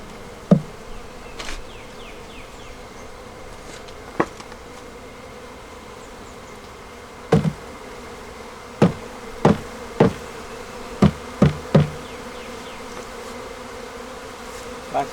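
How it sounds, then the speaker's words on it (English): Honey bees hum around a frame from a starter nuc brought in from the farm, a steady close buzz under a series of sharp knocks and taps, sparse at first and then coming every second or so, with no voices. "get the bees off of here."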